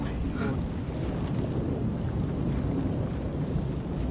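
Rumbling thunderstorm noise in a floor-is-lava video game, a continuous low, dense roar like distant thunder and heavy weather that persists throughout without pause.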